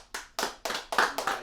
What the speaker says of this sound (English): Let's give a round of applause to the Haitians.